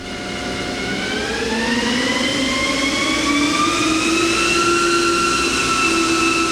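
A Hurco TM-18Li CNC turning center's spindle, two-speed gearbox in high range, winds up toward 500 RPM with a steady whine rising in pitch, then holding, loud and close with no talk.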